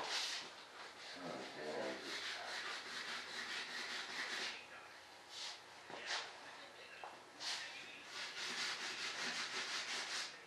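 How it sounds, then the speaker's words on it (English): Sandpaper rubs back and forth on a part of a scratch-built F-105 Thunderchief RC jet model, a steady close raspy scraping in uneven strokes with brief pauses. "So to do that, I need to sand this."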